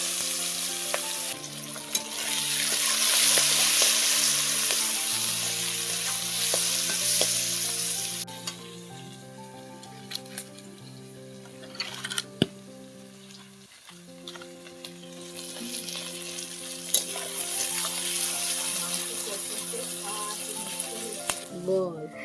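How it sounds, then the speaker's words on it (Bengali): Chopped onions sizzle and hiss loudly in oil that has just fried potatoes, a continuous close crackle with occasional stirring, under a steady tonal background and some talk. "এবার ওই তেলের মধ্যেই দিয়ে দেব পেঁয়াজ কুচি।"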